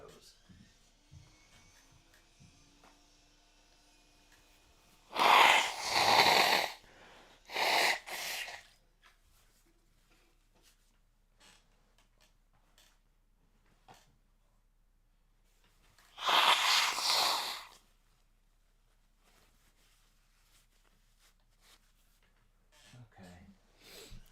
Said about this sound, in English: Hold on, I got to blow my nose.